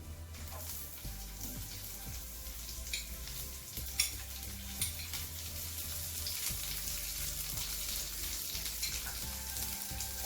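Onions going into a frying vegetable stew bring a steady sizzle with stirring scrapes and occasional utensil knocks, heard up close with no talking.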